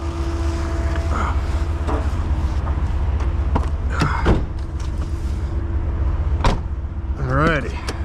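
A 2000 Chevrolet Blazer LS rumbles at low speed from inside the cabin, a steady engine and road drone with intermittent clicks and bumps, while a person's voice and short utterances come through over it.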